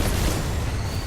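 A loud, dense explosion from an exploding item blown up by gunfire in a multiplayer shooter game, a sustained booming roar with heavy low rumble that fills the whole moment without pause.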